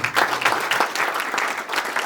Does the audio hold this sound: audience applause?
yes